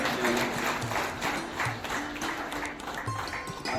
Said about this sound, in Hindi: जोरदार तालियों से उनका स्वागत किया है